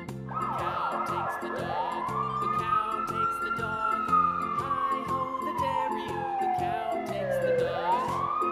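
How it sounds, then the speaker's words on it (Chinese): A toy airport fire truck siren wails in long rising and falling sweeps, loud and steady throughout, with a faint tinkling jingle underneath and no talking. "机场消防车 Airport Fire Truck。"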